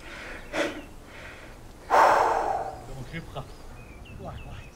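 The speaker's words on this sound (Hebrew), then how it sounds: "האמת היא, לא חשבתי שאני אתנשף כל כך הרבה." Heavy panting after exertion, with a few sharp snorting breaths and one loud gasp-like exhale, close and alone with no talk over it.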